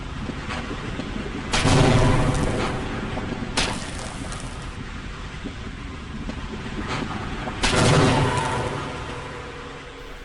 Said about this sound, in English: Let's show that rude bull squid what a grenade is